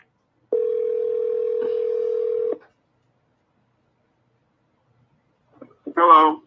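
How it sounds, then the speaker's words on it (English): A telephone dial tone sounds steadily for about two seconds, followed after a pause by a brief burst of dialing tones as a call is placed, then a voice begins speaking. "Let me see if I can get a hold of Chloe again."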